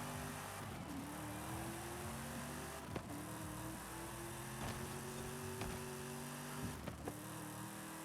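A race car engine in Forza Horizon 5 revving up through the gears, a steady rising drone broken by brief dips at each shift, continuous and moderately loud.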